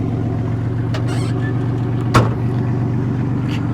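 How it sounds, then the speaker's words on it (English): An old Buick engine idles steadily with a low, droning rumble and a slightly noisy muffler, with a brief thump partway through and no talking. "Aside from the muffler making a little bit of noise"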